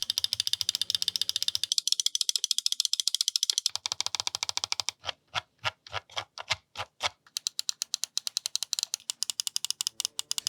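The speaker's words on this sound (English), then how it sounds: "And in case you're curious, they sound like this" Optical switches of a Razer DeathAdder V3 Pro wireless mouse clicking up close: quick bursts of crisp rapid clicks, a short pause, a slower run of separate clicks, then fast clicking again, with no talking.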